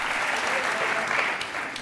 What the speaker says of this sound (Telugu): అది నిజం కాబట్టే చప్పట్లు కొడుతున్నారు